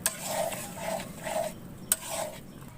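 Scraping stir strokes in a pan of lentils frying with ginger paste and a faint sizzle, repeated about five times in a steady rhythm, with a sharp clink of utensil against metal near the end.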